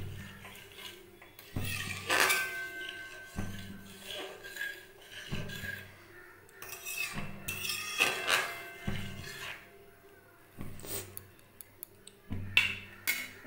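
Boiled lentils with a little salt are stirred in a cooking pot over a high flame, with a spoon knocking and scraping against the metal in repeated bursts and soft wet churning between them.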